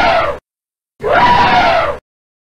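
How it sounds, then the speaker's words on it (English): An elephant calls twice, a short loud trumpeting blast then a longer, sustained bellowing trumpet, close and alone with a pause between. "Elephant."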